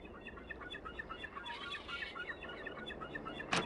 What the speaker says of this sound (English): I mean, there's seagulls.